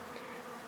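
Honeybees from a newly arrived package, installed in a new homestead hive, give off a brief, steady, soft buzzing hum with no voices.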